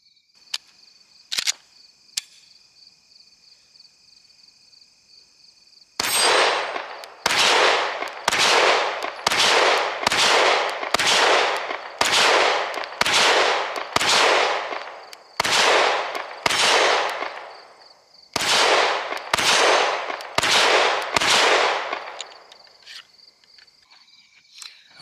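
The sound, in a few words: gunshots from a Bul Armory Axe Hatchet C Glock-clone pistol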